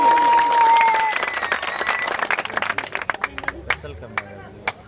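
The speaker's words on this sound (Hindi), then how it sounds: "फैसल के लिए तालियां हो जाए।" Clapping breaks out at a trade association gathering, starting as a dense burst over a brief tone and a murmur of voices, then thinning into scattered individual claps that fade out toward the end.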